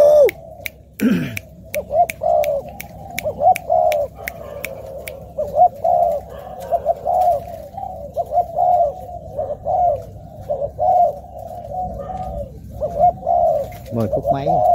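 A pet bird being handed over to a customer coos over and over in a steady, close run of soft, throaty calls lasting the whole stretch, with a few sharp clicks near the start.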